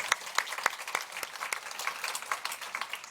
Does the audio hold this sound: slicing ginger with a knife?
no